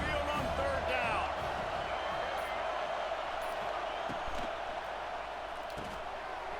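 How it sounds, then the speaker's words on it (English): Stadium crowd roar from EA Sports College Football 26 at a Tide home game on third down, a steady loud wash of cheering and noise filling the whole stretch, with faint thuds and a commentator's voice over it. "The Tide crowd rolling noise down on the Saban field on 3rd down."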